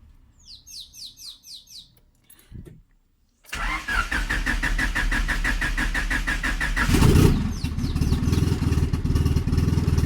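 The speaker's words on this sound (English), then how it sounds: "Alright, so let's see if we can get this started." A turbocharged Honda Civic running a new ECU on a base map cranks with a rhythmic starter whir, pauses briefly, then catches and settles into a loud, steady idle that swells slightly before holding.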